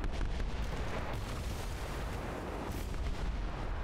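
A ship's big gun fires in the airship video game Kingdoms Adrift, giving a loud, sustained, rumbling artillery blast that fills the whole stretch with no talking.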